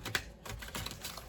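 A fresh oracle card deck is shuffled up close, giving a quick run of soft, dense riffling clicks with no talking.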